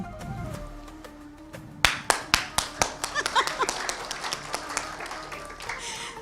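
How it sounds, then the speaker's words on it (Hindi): Audience at a live UAE National Day program claps in a few sharp, rhythmic unison beats that then loosen into scattered, quicker clapping, preceded by a quiet stretch with faint background tones. "मैं आपको बताता हूँ कैसे तालियां बजी हैं"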